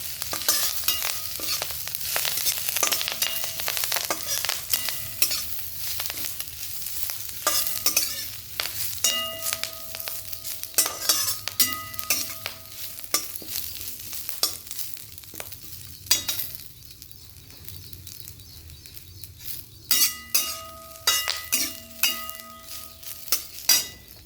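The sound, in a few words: roasting curry leaves in a pan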